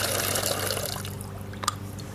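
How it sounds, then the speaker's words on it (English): Water draining out of an improvised PVC well bucket, a steady splashing trickle that fades out, followed by a few brief drips and knocks. "It empties the water out."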